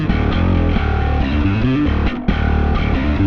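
A Behringer 2-XM synthesizer played through a boost into distortion, a loud, thick, buzzing sustained tone with gritty harmonics, shifting pitch in stepped notes and a brief dropout near the end, no voices.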